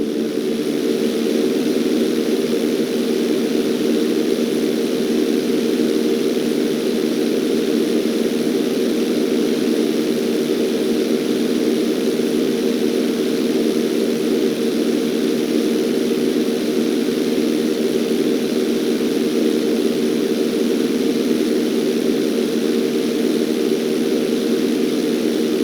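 A propeller airplane engine drones steadily and loudly throughout an inside loop at flight school in GTA 5, a constant mid-range hum with no break or voices.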